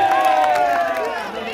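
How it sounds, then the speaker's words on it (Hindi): A crowd at a political rally in Poisar, Mumbai, claps and cheers for Modi, a loud continuous roar of voices and applause with shouting rising above it. "एक मोदी के लिए ताली बनती है कि नहीं?"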